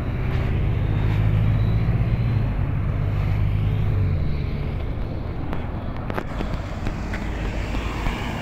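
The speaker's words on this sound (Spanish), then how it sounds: "Helicóptero" A helicopter flies over a Vuelta a España cycling stage near Porriño, a loud, steady rotor drone that fades slightly as it passes, with no talk.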